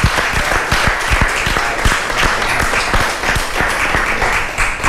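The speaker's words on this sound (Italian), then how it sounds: "Meritano veramente un applauso." Studio audience applause for artworks on an Italian television show, loud dense clapping with some sharp individual claps standing out, sustained throughout without speech.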